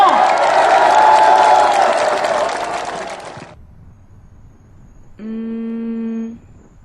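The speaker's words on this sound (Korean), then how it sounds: "여러분, 큰 박수 다시 한번 부탁드립니다." Crowd applause and cheering at a Korean presidential campaign launch rally, a loud dense burst that cuts off abruptly, followed by a quiet gap and then a sustained tonal buzz or horn.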